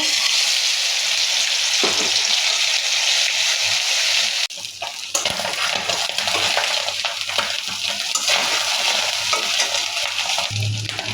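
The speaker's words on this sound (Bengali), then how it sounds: "এখন মাছটা ভেজে নেব" Fish fries in hot oil with a loud, continuous crackling sizzle, briefly dipping as the food is moved, then hissing on steadily.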